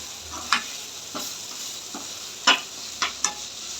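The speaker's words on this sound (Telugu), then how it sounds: "కలుపుకుందాం." Beans and egg frying in a pan give a steady soft sizzle, broken by a few sharp scrapes and taps of a spatula stirring them, about six distinct strokes spread over the few seconds, with no talking.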